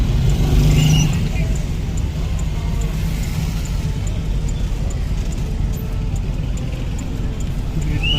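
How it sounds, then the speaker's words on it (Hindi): A car drives into the parking area of a Sufi shrine in Muzaffarabad, giving a steady engine and road rumble that stays close throughout, with talk mixed underneath. "तो हम लोग अपनी गाड़ी जो है तो वो दरबार के अंदर की पार्किंग में पार्क करेंगे"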